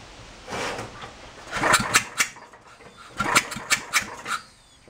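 An old generator engine, run without its muffler, sputters and coughs through a few uneven starting bursts, loud and raw, with short gaps between the firing pulses.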